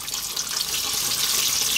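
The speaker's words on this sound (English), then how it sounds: "we're now gonna be splashing the oil over" Hot oil is splashed over battered fish frying in a pan, giving a continuous bright sizzling hiss that stays close and loud without pause.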